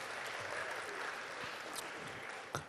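A jazz lecture audience gives a round of applause, a fairly faint, steady wash of clapping that holds for a few seconds with a sharper clap near the end.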